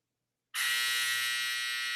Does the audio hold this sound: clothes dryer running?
yes